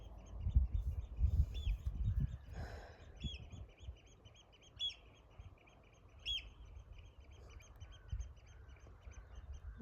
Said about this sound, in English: Birdies.